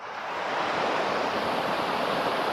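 Mountain creek water rushing steadily at the head of a run, a broad continuous roar of turbulent surface water, close and fairly loud throughout with no voices.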